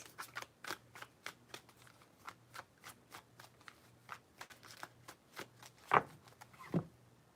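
Tarot cards being shuffled, a rapid run of crisp riffling snaps close by, repeating in a steady rhythm with two louder slaps near the end.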